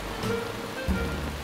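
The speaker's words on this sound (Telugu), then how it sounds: "రంగు ఇంకా చిటపట చినుకులు చాలా రొమాంటిక్గా ఉన్నాయి కదా" Light drizzle falls steadily, a soft continuous patter of fine raindrops on surfaces nearby with no voices over it.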